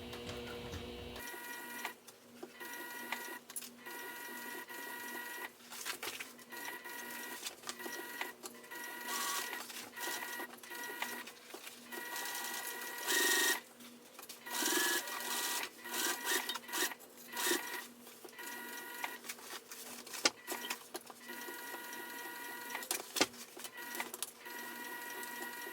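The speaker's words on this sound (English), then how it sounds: "I've just been sewing along a straight edge so far" A sewing machine stitches a fabric hobo bag slowly, one stitch at a time, giving quiet intermittent whirs and clicks in short bursts separated by pauses, with some rubbing and handling noise of the fabric in between.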